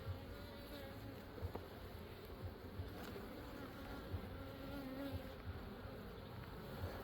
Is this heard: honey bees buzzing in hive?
yes